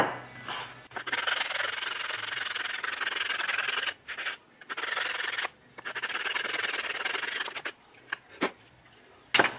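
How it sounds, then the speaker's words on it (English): Sandpaper is rubbed by hand over a wooden board, part of modifying a futon bed to recline: close, loud rasping strokes run in long stretches, broken by short pauses and a few knocks. "Just a good old sanding,"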